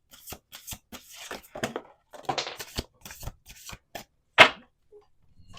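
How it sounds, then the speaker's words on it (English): A deck of oracle cards is shuffled by hand in quick ragged bursts of riffling and slapping, close up, with short gaps between passes and a final sharp snap. "I can just barely get this whole deck in one shuffle."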